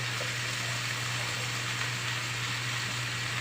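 About two glasses of water are poured into a pot of snails for ginataang suso, a steady continuous rushing pour with a low hum beneath, even in level throughout.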